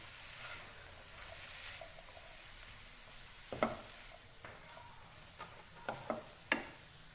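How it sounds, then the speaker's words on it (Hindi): Chicken fried rice being stirred in a frying pan, a steady quiet sizzle with scattered scraping ticks and light clicks of the utensil against the pan, close and with no talking. "मिक्स करेंगे।"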